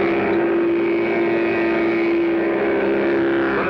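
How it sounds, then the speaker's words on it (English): A Mattel Baroom hot rod toy engine roars in a steady, buzzing drone with a constant pitch, loud and unbroken throughout. "Sounds like a real engine."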